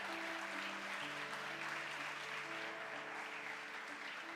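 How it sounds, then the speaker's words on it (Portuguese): A church congregation applauds in a steady, faint wash of clapping while sustained keyboard chords play underneath. "Se você crê, glorifica o nome dele e aplauda a Jesus nesse lugar"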